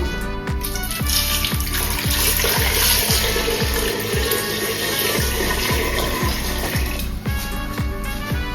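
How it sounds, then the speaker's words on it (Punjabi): Plenty of water pours from a tap into a pressure cooker holding potatoes, a loud, close, continuous gushing splash with rapid rhythmic bubbling pulses throughout and no talk. "ਹੁਣ ਇਸ ਵਿੱਚ ਐਡ ਕਰਾਂਗੇ ਕਾਫੀ ਸਾਰਾ ਪਾਣੀ"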